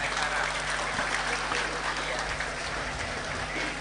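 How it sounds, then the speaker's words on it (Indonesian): A crowd applauds an honored guest at a high school anniversary celebration. The clapping is steady and washy, heard from a distance over a low electrical hum, with no clear break. "Tepuk tangan untuk Bapak Haji Herman Deru."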